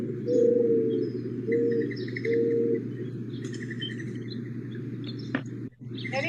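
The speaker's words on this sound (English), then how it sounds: "Mourning dove." A recorded mourning dove call plays: soft, low cooing notes repeated three times, the last ones faint, over a steady hum of room noise.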